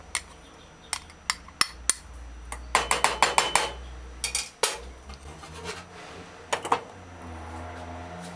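A spoon or fork pressing cooked rice down into a small cup, giving a series of sharp scraping clinks and taps against the cup, some isolated and others in quick clusters, close and fairly quiet.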